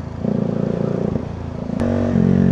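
A Bajaj Dominar 400 motorcycle engine holds a steady, throbbing idle-to-midrange rumble around 3,500 RPM, close and continuous, with a brief clatter and a slight rise in pitch and loudness near the end.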